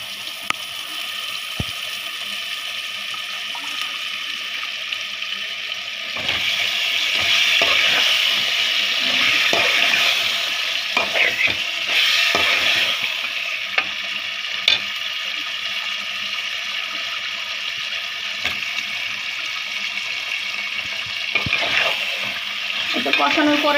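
Chicken pieces added to spiced masala sizzle and fry steadily in a pan, with stirring scrapes and occasional clinks throughout, loud and continuous with no talking.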